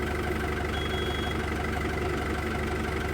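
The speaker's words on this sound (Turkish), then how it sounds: "Traktör ama bir şey söyleyeyim mi? Saat gibi çalışıyor." Tractor engine idling in the video game Farming Simulator 25, a steady, even low rumble with a constant hum that runs unchanged throughout, close and moderately loud with no talk.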